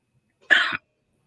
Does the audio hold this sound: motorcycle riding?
no